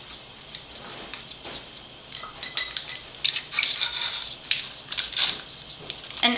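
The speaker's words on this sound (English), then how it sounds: "I am going to grate my butter" Cold butter is grated for a vanilla buttermilk cake, making uneven scraping and scratching strokes against a metal grater, with light clinks and rattles, close and moderately loud, and no speech.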